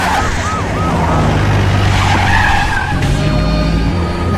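A jeep speeds away in a Kamal Haasan action film scene, tires skidding and squealing loudly and continuously over a steady engine roar, close and dense throughout.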